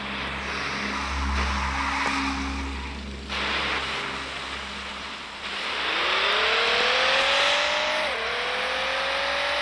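A Toyota Supra GR in Car Parking Multiplayer builds toward top speed, its engine note climbing steadily through gear shifts into a loud, sustained whine, with no voices.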